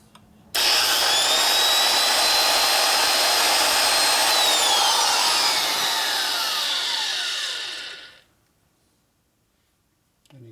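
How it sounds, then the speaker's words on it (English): An angle grinder runs across the surface of an aluminum Harley ironhead XL 1000cc Sportster cylinder head, giving a loud, close, continuous high-pitched whine with grinding noise that lasts about seven seconds and then winds down into silence. "You spin it with your grinder and just run across the surface."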